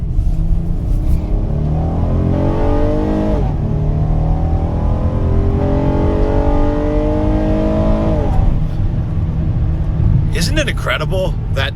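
The VTEC engine of a Honda Odyssey minivan revs hard from inside the cabin as it climbs toward the rev limiter. It gives two loud, rising sweeps, each cut off as the automatic transmission upshifts.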